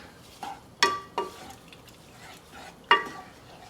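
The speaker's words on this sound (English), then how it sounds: "Let me mix that in really well first" Cherries and sugar being mixed in a bowl for a cherry tart, heard as a few sharp scraping and clinking strokes of a spoon against the bowl with quiet pauses between them.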